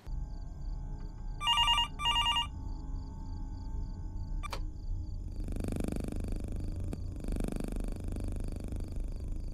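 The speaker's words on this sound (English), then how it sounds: "Why was my phone ringing at 3 in the morning?" A phone rings in the horror video game Fears To Fathom: Norwood Hitchhike, with two short bursts of ringing early on, followed by quieter broadband rustling and thuds against a low background hum.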